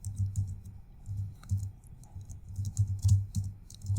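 Steady typing on a computer keyboard, soft close key clicks in quick irregular bursts with brief pauses, fairly quiet and without any voices.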